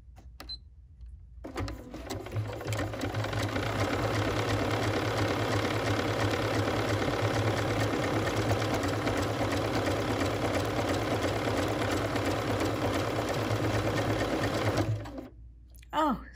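A BERNINA sewing machine stitching a 15 mm buttonhole, running as a fast steady mechanical whirr for about thirteen seconds after a brief start, then stopping, with a voice in the quiet moments.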